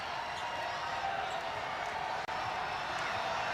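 Basketball crowd noise at a Gonzaga versus Arizona State game, a steady roar of an arena audience rising into cheering, loud and continuous with no clear breaks.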